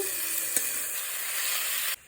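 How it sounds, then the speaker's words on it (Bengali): Vegetarian chowmein noodles with fried potatoes and spices sizzling steadily in a pan while being stirred, with one sharp scrape near the start and the frying cutting off abruptly at the end. "এবার ভালো করে নেড়ে চেড়ে নেব"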